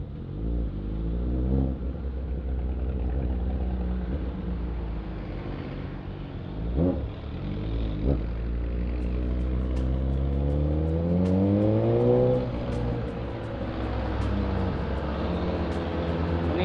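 A Suzuki GSX-S1000 big bike with quick shifter and auto blip drones steadily under way, its engine note rising and falling through gear changes over a constant rush of wind.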